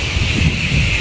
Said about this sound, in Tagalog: Malakas po ang hangin.